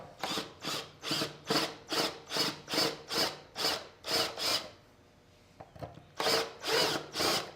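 Power drill boring a hole to mount a Buddy scooter front basket, a repeated run of about eleven short whirring bursts, a brief pause, then two more bursts, close and fairly loud with no talking.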